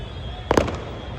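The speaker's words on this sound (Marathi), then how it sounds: "मागं फटाके वाजतात" At a Shivjayanti procession in Satara, a firecracker goes off with a sharp, loud bang and brief crackle against a steady background hum.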